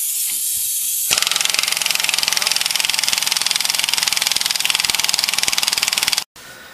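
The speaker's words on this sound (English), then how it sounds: "it's best to use like a 1200 PSI impact gun to take it off" A 1200 PSI impact gun on an axle bolt of a 2001 Ford Expedition during axle replacement: about a second of steady hiss, then roughly five seconds of loud, close, rapid hammering that cuts off abruptly, followed by a brief gap and more hiss.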